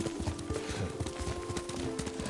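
Hooves of a ridden horse clip-clopping at a steady trot in Ghost of Tsushima, moderately close and fairly quiet over a low tonal hum, with no speech.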